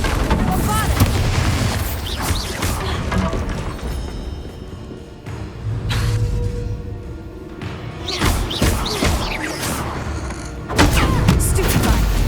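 A Bombarda spell explosion from Hogwarts Legacy on PS5 Pro, heavy booming blasts and crashing impacts striking at intervals, loud and close, with a voice speaking at times in between.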